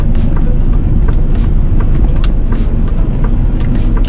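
A car driving up and pulling in to park after a test drive, its steady engine rumble and road noise close and continuous throughout.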